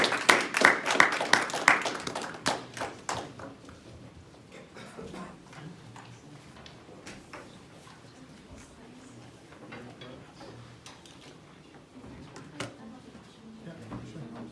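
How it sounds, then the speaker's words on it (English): A short burst of audience applause follows an international business proposal presentation, loud for about two seconds before thinning out into scattered sounds and people talking. "Give a round of applause"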